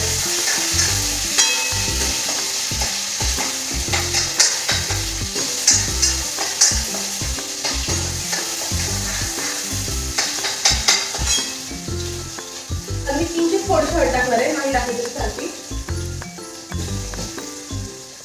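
Tomatoes fry in hot oil for sambar with a loud, continuous sizzle, broken by frequent rhythmic scrapes and clacks of stirring, and a surge of crackling toward the end.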